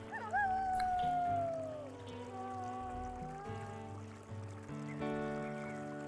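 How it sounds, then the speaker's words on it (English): Wolves howling in the video game WolfQuest, several long, wavering howls that overlap and rise and fall over a few seconds, with no talking. "So we howl real quick."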